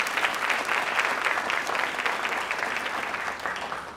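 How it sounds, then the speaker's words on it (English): Graduation ceremony audience applause, a sustained, even roar of many hands clapping that carries steadily throughout with only a slight tapering toward the end. "Let's give them a big round of applause."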